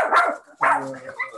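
Two close, loud barks from a dog indoors, the second trailing into a whiny, tonal yelp, with no voices over them.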